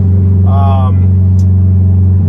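Cabin of a turbocharged 1988 Ferrari Mondial Coupe on the road, a steady low engine hum and tonal drone running throughout, loud and close, with a brief rising whine early on and a voice talking over it.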